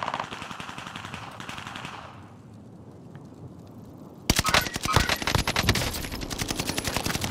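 Bren light machine gun fire in Call of Duty: Modern Warfare, with sustained rapid automatic bursts over game ambience; a lull, then a loud dense stretch of fast continuous shots.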